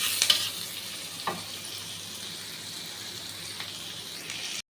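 Chopped carrot, capsicum and beans sizzle steadily in a frying pan while a utensil scrapes and stirs in a few brief strokes, the frying hiss continuing throughout.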